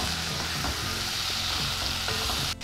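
French beans, cauliflower, peas, potatoes and carrot sizzle steadily in a pot while being stirred, the frying hiss close and continuous with scraping stirs, and nobody talks.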